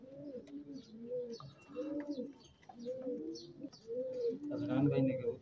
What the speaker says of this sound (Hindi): अदनान भाई ने कबूतर बहुत अच्छे रखे हुए हैं, ये अमेरिकन लक्के।